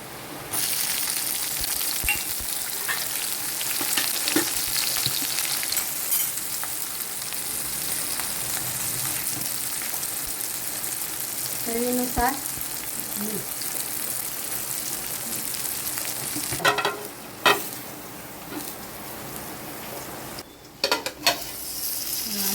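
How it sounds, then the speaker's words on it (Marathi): Cumin, asafoetida and green chillies fry in hot oil for a gongura leaf dish, a steady loud crackling sizzle with scattered pops and a few sharp clatters of a spoon or pan near the end. "पहिला जिरं टाकलं अर्धा चमचा आता हिंग टाकतो आणि ह्या मिरच्या टाकतो"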